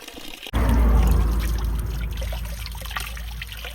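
Water pouring steadily after an abrupt start, a loud close gushing and splashing that continues evenly, fading slightly toward the end, in a rural Spanish village setting.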